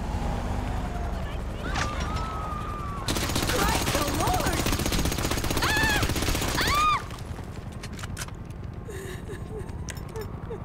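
Shootout gunfire in the video game GTA V, bursts of shots and noisy firing packed into the middle stretch, with quieter ambient game sound and occasional tonal chirps before and after.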